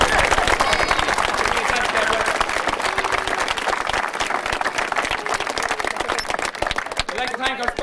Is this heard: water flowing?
no